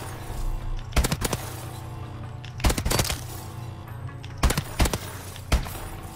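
MK-14 rifle fired on the firing range in Call of Duty Advanced Warfare, several clustered bursts of sharp, booming shots in quick pairs and triples over a low steady hum, loud and close.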